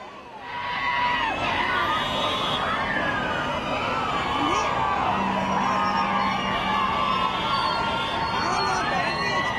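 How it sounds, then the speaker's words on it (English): A big city crowd cheers a returning Olympic silver medalist badminton player and her coach at a welcome parade in Hyderabad. Whoops and shouts form a dense, steady roar, with a siren-like wail running through it. "The shuttler and her coach Pullela Gopichand rode through a cheering city"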